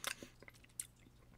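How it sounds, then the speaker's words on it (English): Close, quiet chewing of a liver and onion flavored Bean Boozled jelly bean, with a few soft wet bites and squishes in quick succession and no talking. "Like, after you start chewing it."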